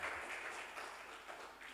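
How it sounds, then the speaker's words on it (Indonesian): A church congregation claps together in a steady, even wash of applause, faint and somewhat distant, lasting the whole short stretch. "Boleh tepuk tangan buat Tuhan kita?"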